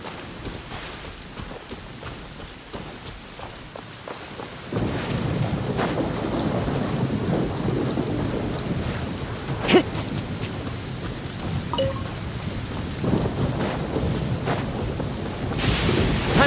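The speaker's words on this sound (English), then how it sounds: "Taking a stroll in the middle of a downpour certainly rouses the spirit." Heavy rain and rolling thunder in a downpour within the Genshin Impact video game, a dense steady hiss of rainfall that thickens midway, with deep rumbles and a sharp crack.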